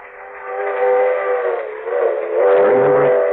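Steam train whistle used as a sound effect in a 1945 radio horror drama, one long, loud, wavering wail that swells, dips and swells again, with a low rumble entering near the end.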